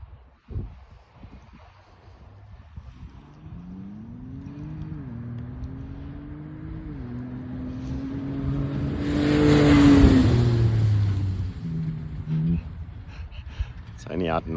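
A kitted Ford Raptor with extra fuel tanks revs while driving off-road, the engine note climbing and dipping through several rises, swelling to a loud peak before settling, with a voice talking faintly underneath.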